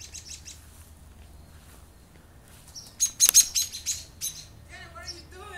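Birds calling near a birdhouse in a tree in a yard, several sharp chirps and a burst of excited calls midway, close and fairly loud over a low background hum.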